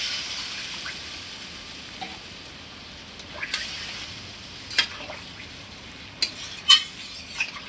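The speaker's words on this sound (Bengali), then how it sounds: "এইবার আমি মাছের ঝোলের জন্য জল দিয়ে দেবো।" Water goes into a pan of catfish curry with potatoes, and a soft, continuous sizzle follows, with a few brief sharper crackles and spits rising near the end.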